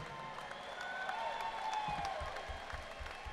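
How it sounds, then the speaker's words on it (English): Applause and scattered cheers rise from a large crowd at a caged MMA fight, heard from a distance in a big echoing venue, with some faint whistling tones. "a round of applause, please, for both of the fighters in this cage"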